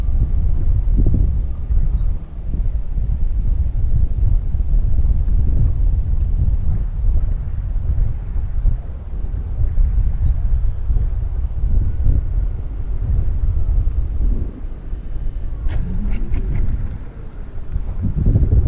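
Strong crosswind buffets the microphone at an RC model airfield, a loud continuous low roar and rumble with gusty swells, plus a few faint high whines late on.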